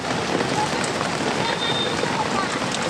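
Steady patter of rain falling on a surface, continuous and fairly close, with a faint murmur of activity from the Dadar flower market in Mumbai in the background.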